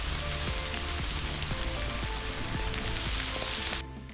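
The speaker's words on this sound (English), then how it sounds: "it's raining right now" Steady rain falls on a backpacking trail in Savage Gulf, a dense continuous patter of drops on leaves and ground, close and fairly loud, easing off near the end with no talk.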